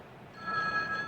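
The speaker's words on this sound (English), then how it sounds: "Oh, my phone." A telephone rings faintly in an indoor scene, its bell tone starting partway through and continuing steadily at low level.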